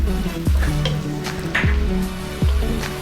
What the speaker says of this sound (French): Et là, on va mettre l'ail écrasé.